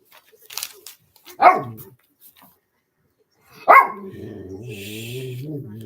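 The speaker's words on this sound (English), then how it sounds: "So our dog's being a little bit hyper at the moment" A hyper dog lets out two sharp, loud barks indoors, spaced a couple of seconds apart, followed by low whining or growling noise.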